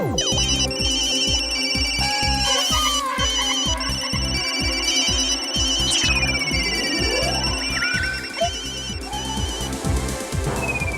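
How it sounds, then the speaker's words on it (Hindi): A phone rings while a call is placed, with a loud electronic ringtone of repeating melodic tones and pulsing beats that carries on steadily, and no one speaking over it. "अभी विकी को फोन लगाती हूँ।"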